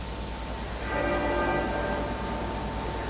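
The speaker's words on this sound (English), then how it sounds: "The muffled tenor bell at the Abbey marking the progress of the procession minute by minute." A muffled tenor bell tolls at Westminster Abbey during a funeral procession in London, one steady ringing stroke swelling from about a second in and lingering over a low constant rumble of crowd and street ambience.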